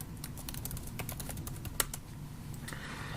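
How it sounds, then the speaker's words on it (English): Fingers type quickly on a computer keyboard nearby, a rapid run of light clicking keystrokes with one sharper tap, faint and steady, without speech. "So I'll just type that in here."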